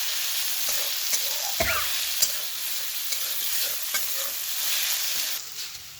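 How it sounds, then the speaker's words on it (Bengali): Ginger sizzling in hot oil in a pan, a steady broad hiss with a few sharp scrapes and clinks of a stirring utensil scattered throughout, close and fairly loud, no voices. "আর আদাটা একটু কষিয়ে নিই"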